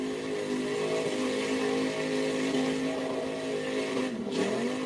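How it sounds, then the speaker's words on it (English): A car engine sits bouncing off its rev limiter at a launch event, a loud, steady high-rpm drone with harmonics that dip briefly near the end before climbing again, heard up close and without any talk. "Hitting the rev limiter."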